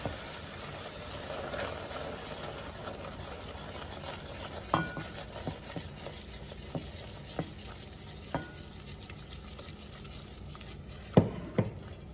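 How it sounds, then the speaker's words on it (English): Cream whisked into salted caramel sauce off the heat, a faint steady bubbling hiss with scattered clinks and taps of the whisk against the pan, quiet and close. "And you want to leave it off the heat and just keep whisking it in."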